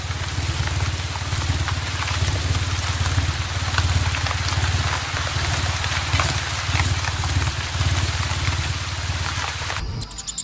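Steady rain falls through the Atlantic Forest, a dense, even hiss of drops on leaves with a low rumbling undertone, continuous and unbroken throughout with no voices.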